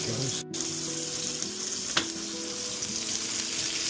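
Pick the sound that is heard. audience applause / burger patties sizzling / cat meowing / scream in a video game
burger patties sizzling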